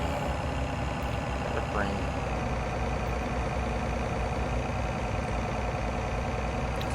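A tractor pulling a grain cart idles and rumbles steadily nearby during the fall harvest on a farm in Ireland, a constant loud engine drone with someone talking over it.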